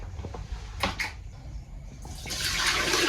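A few clicks and knocks, then a police-station toilet flushes with a loud rushing surge of water that keeps building to the end.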